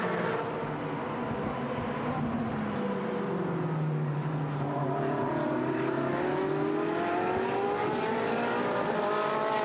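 Race cars in the GT Sport video game braking into turn 1 at Algarve, engine notes sweeping down and then rising again as the cars pass, steady and loud with no talk.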